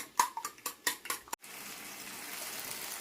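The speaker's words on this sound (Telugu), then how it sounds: "గుడ్డుల్ని ఇలా బీట్ చేయాలి" Eggs are whisked in a bowl for an egg curry: a rapid burst of clinking taps against the bowl stops after about a second, and a steady soft hiss carries on alone.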